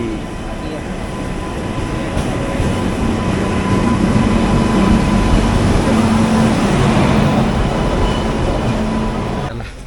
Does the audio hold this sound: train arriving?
yes